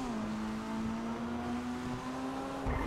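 Pfister Growler sports car in GTA Online accelerating, a steady engine drone holding one pitch that climbs slightly near the end, close and moderately loud with no talk over it.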